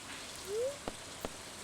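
Rain ambience in the video game Stardew Valley, a soft, faint, steady patter with a couple of small sharp ticks and a brief rising tone.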